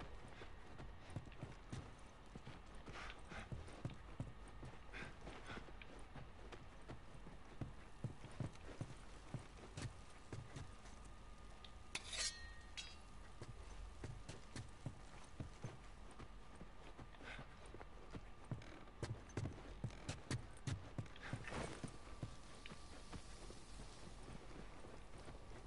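Horse hooves clip-clop in The Last of Us on PS4, a steady, moderately loud rhythmic clopping that runs throughout, with a light wind-like background and occasional sharper knocks, no talking.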